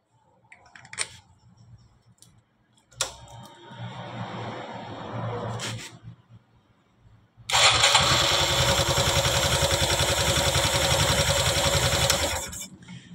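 A Honda Super Cub fuel-injected motorcycle engine cranks with clicks and a few failed attempts, then fires up and idles loudly and steadily for several seconds before cutting off.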